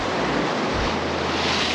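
Ocean waves wash and splash over jetty rocks at Dana Point, California, a loud continuous roar of surf with wind buffeting the microphone.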